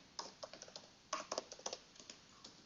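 Close, fairly quiet typing on a computer keyboard, a quick irregular run of distinct key clicks with a few louder taps clustered in the middle.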